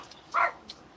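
A single short dog bark indoors, fairly faint and brief, with no talk around it.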